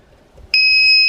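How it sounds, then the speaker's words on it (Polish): A Green Cell Pro 300 voltage inverter sounds its low-battery alarm, a sudden loud, steady high-pitched electronic beep tone that starts about halfway through and holds to the end. "W tej chwili ten akumulator jest rozładowany, więc alarmuje mi, że jest rozładowany."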